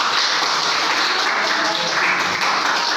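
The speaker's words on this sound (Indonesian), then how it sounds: "Oke, tepuk tangan." A classroom of students applauds a group after its presentation score is announced, a dense, steady wash of clapping that holds for about three seconds without a break.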